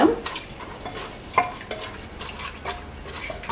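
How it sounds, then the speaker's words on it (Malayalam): Masala is stirred into mutton in a pressure cooker, giving repeated scraping and stirring strokes and a light sizzle, with a clack of utensil against metal near the start. "മസാല എല്ലാം മിക്സ് ചെയ്തിട്ടുണ്ട്."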